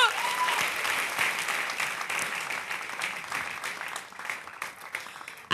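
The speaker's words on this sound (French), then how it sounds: "On applaudit pour mon pays" Stand-up comedy festival audience at an African comedy show applauds steadily, a full, fairly distant wash of many hands clapping that carries on for several seconds and fades slightly before a brief swell at the end.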